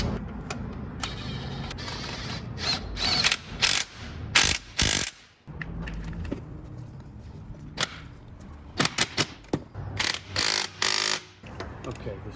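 A ratchet tightening a starter bolt on a Toyota 22RE engine: close, crisp clicking strokes in short irregular bursts with quiet gaps between them, some faint handling noise underneath.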